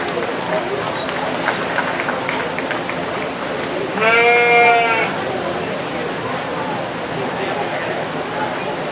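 At a county fair livestock show, a sheep lets out one clear, wavering bleat partway through. Crowd noise continues around it, and a voice talks before and after.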